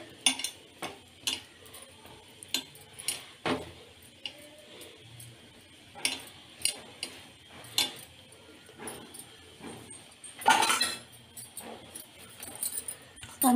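A metal lid goes onto a cooking pan of Dilpasand filling over a medium flame, with sharp clinks and taps scattered throughout and a louder rattling clatter near the end, close by and with no talking.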